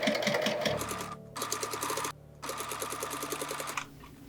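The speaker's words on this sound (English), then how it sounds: "And sew it down." A sewing machine stitching the seam of doll overalls, running in a loud, close, rapid burst, then pausing briefly twice before a quieter tail at the end.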